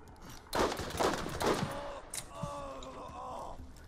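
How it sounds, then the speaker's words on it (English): A revolver shotgun fires in Borderlands, a cluster of heavy booming blasts in quick succession followed by a fainter echoing shot and ringing tones from the game. "it's like a revolver shotgun"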